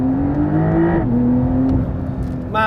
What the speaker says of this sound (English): launch control on 911s, dead easy, into D, left foot on the brake, right foot flat on the throttle